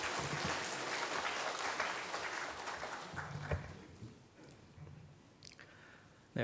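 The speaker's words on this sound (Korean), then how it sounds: "박수로 맞이하겠습니다." Applause from a church congregation at a Wednesday prayer service, dense and steady at first, then thinning out and fading over several seconds.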